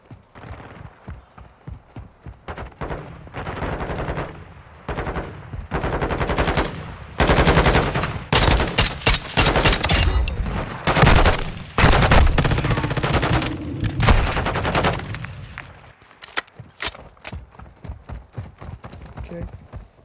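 Rapid automatic gunfire from a low-recoil weapon in Call of Duty: Modern Warfare 2, loud bursts clustered in the middle of the stretch with scattered single shots before and after, along with game sound effects.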